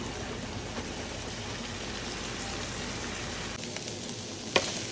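Broccoli fries in a pan with steady, dense sizzling that holds at an even level throughout, and near the end a single small knock lands against the cookware.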